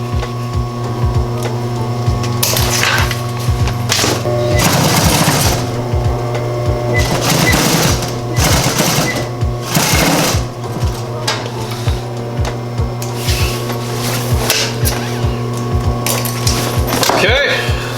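A machine sewing a leather duffle bag, its steady motor hum running under a clatter of busy workshop noise and brief handling knocks throughout.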